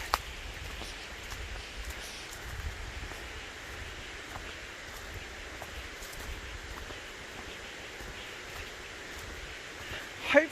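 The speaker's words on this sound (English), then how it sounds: "You can probably hear the falls pretty easily now" Steady broadband rush of Terrace Falls waterfall in the Blue Mountains near Hazelbrook, swollen after a week of rain, heard from a short distance above as a continuous even roar with faint outdoor rustle.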